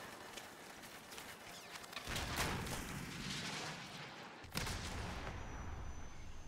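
Stinger missile launchers fire in a Call of Duty: Modern Warfare Remastered battle, with a roaring launch blast around the two-second mark and another sharp boom near four and a half seconds amid continuous rumbling gunfire.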